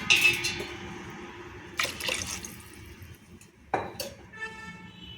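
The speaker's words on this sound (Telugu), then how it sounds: "వాటర్ అయితే పోసుకుందామండి" Water being poured into a pressure cooker during home cooking: a few short, close splashing pours separated by quiet pauses, with faint drips and clinks in between.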